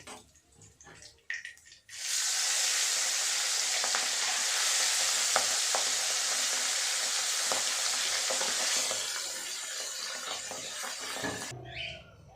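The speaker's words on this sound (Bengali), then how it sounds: "একইভাবে আমি বাকি সব মাছগুলোকে ভেজে নেব।" Fish sizzle steadily as they fry in hot oil, a dense, loud hiss holding for about ten seconds with scattered pops and crackles before it cuts away.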